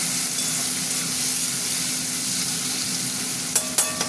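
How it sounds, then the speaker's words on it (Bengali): Prawns frying with onion in a pan, a loud continuous hissing sizzle close up, with a couple of brief clatters of stirring near the end and no talking. "চিংড়ি মাছ ভাজা ভাজা হোক"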